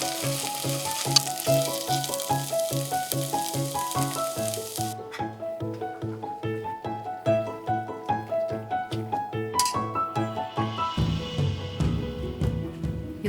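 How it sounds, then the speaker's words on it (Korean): Sliced green onions frying in hot sesame oil for a noodle soup, a continuous loud sizzle with rhythmic stirring scrapes and clatters throughout, no talking. "참기름이 달궈지면 대파를 넣고 숨이 죽을 때까지 볶는다."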